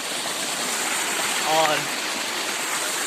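A cold Himalayan mountain stream flows past with a broad, steady rush of water, close and constant, while someone briefly speaks over it.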